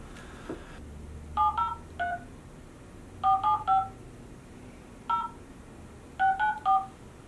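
Telephone keypad tones dial out for a business call to a client, clear beeps in three quick clusters separated by pauses over quiet room hiss.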